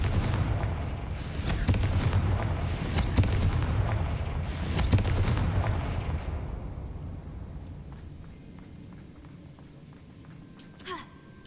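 A Confringo fire spell explodes inside a tomb in Hogwarts Legacy, giving a series of heavy booming blasts over the first half that fade into a quieter rumbling tail.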